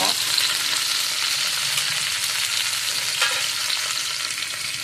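Tomatoes fry in a pan for egg masala, giving a constant, close crackling sizzle with faint stirring scrapes and no voices.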